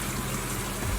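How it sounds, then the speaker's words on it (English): Cold tap water runs steadily as a red snapper is rinsed out in a kitchen sink. It is a continuous, fairly soft gushing wash with no talking. "I like to run my cold water through the stomach of the fish"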